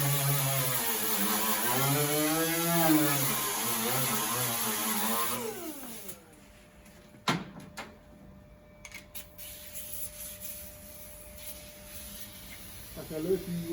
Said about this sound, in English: now that's got nice and hot for the cut, we'll quickly clean up with a wire wheel